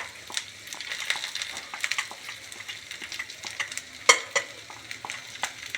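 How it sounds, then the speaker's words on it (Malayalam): Fried onion, tomato and green chili tipped into a pan, sizzling and frying close by with frequent scraping stir strokes and soft clinks, no voices. "വഴറ്റി വെച്ച ഉള്ളി, തക്കാളി, പച്ചമുളക് പിന്നെ എല്ലാം കൂടിയുള്ളത് ഇതിലേക്ക് ഇടുകയാണ്."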